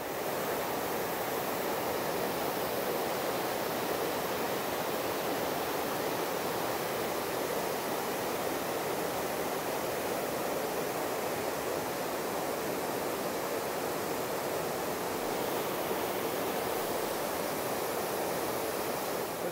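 Rushing river water roars steadily below an old rustic viewpoint on the Appalachian Trail, a broad, unbroken hiss of flowing current at even, moderate loudness with no voices.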